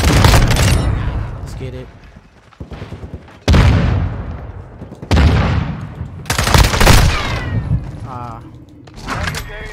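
Repeated bursts of FSS Hurricane submachine gun fire in Call of Duty MW2, loud rapid volleys broken by short pauses, with players talking over the shooting.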